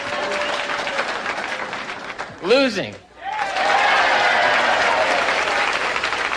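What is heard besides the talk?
comedy club audience applauding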